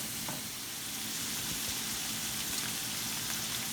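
Vegetables for Tex-Mex enchiladas browning in a pan with a steady, dense sizzle throughout, close and even, with no talking.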